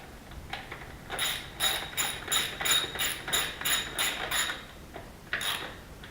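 Ratchet wrench tightening a T40 Torx bolt on a BMW R nineT motorcycle: a rapid series of about ten metallic clicks in quick rhythm, a pause, then a few more, close and moderately quiet.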